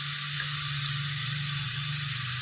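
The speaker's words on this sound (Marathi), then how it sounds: "बघा की मग मस्त कांदा टमाटा फ्राय होतोय." Onion and tomato frying in a pan, a steady, even hiss of sizzling that stays close and constant throughout, with no talking.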